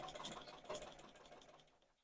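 A domestic sewing machine stitching fabric, running in a fast steady buzzing rhythm close up for about two seconds before slowing and fading.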